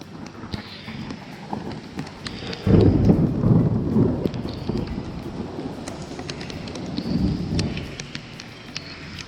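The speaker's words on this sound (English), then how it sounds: "it started to rain and thunder again" Steady rain hisses throughout while deep, rumbling thunder rolls in heavily partway through and swells again near the end.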